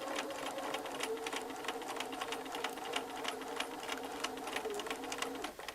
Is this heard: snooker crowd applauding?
no